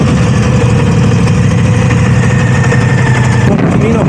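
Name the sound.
Moto Guzzi V85TT motorcycle engine setting off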